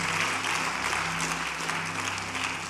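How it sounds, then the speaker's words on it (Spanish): A church congregation claps loudly and continuously for the Lord during a worship service, a dense, steady wash of applause filling the room without a break. "Dale un aplauso fuerte al Señor."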